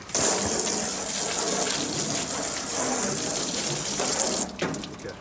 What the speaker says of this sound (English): Get your water hose and get rid of your shavings.